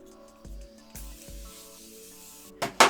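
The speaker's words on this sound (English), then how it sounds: "Then I'm gonna lock it in with the Morphe Continuous Setting Spray." Morphe Continuous Setting Spray mists out in a couple of short, close hissing bursts near the end, after a few quiet thumps and handling noises.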